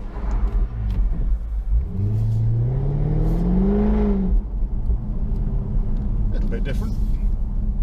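Jaguar F-Type 5-litre V8 engine revving loudly nearby, a rising sweep that climbs and holds before dropping back to a deep rumbling idle, with voices talking over it.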